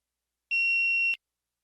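A single steady electronic tone marks the start of response preparation in a TOEFL speaking practice test, lasting just over half a second, clean and sustained, ending abruptly, with silence around it.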